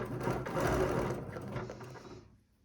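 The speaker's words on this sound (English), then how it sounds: "I'm going to stitch straight across." A sewing machine stitches straight across a quilt with a fast, steady mechanical whir, close and loud, that slows and stops near the end.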